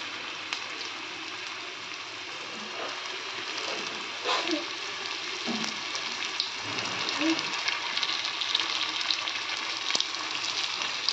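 Pieces of boiled suran (elephant foot yam) frying in hot oil over a medium gas flame, a steady close sizzle with occasional pops and light stirring, no talking.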